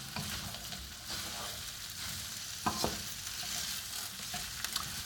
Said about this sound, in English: Hear the sizzle? That's what I like to hear.